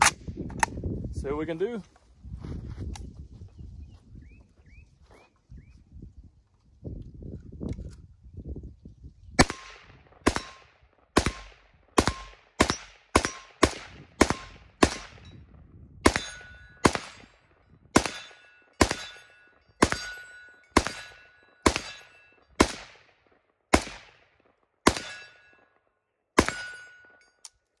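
An Arsenal SAM5-62 rifle fires about twenty sharp, loud single shots at a steady, deliberate pace outdoors, each crack trailing a brief echo, after someone speaks briefly at the start.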